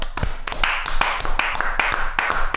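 Podcast hosts clap together in a quick, fairly steady run of sharp claps over a couple of seconds, close to the microphone.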